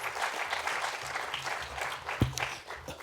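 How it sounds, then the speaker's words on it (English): Audience applause for a speaker at a fashion school launch event, moderate and steady over low background hum, with a sharp knock near the end. "So big round of applause for Neeraj."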